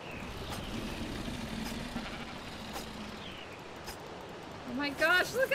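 A sheep in the video game ARK Survival Evolved bleats faintly while being sheared, under a dense noisy game soundscape, with a louder burst of sound near the end.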